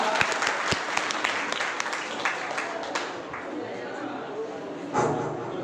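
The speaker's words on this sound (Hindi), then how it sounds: "एक बार जोरदार तालियों से इनका स्वागत चाहूंगा।" An audience at a Nag Panchami and Chaurasia Day community event in a hall gives loud applause welcoming the chief guest; the clapping is strongest at first, then thins out, with some chatter and a brief swell near the end.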